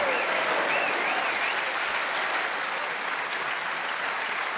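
Steady, full applause from a snooker crowd after a trick shot during a World Snooker Championship semi-final, sustained and even throughout with no commentary over it.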